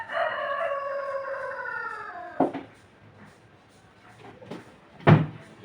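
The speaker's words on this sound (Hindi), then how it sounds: "देख रहे हैं यहाँ पे मुर्गा बहुत बोलता है" Rooster crowing in a home in Nigeria, one long loud drawn-out crow close by, followed by a few sharp knocks like a cupboard or door closing.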